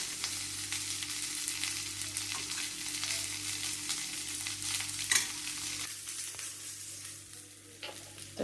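Okra frying and sizzling in a pan for a spicy curd bhindi dish, a steady low sizzle with occasional stirring scrapes and clicks, fairly quiet and close, with no talking.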